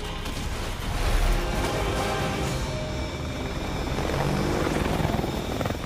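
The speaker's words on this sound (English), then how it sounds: "Helicopter." Helicopter in Call of Duty: Advanced Warfare, a loud, steady rotor-and-engine roar that fills the whole stretch without letup, with no talk over it.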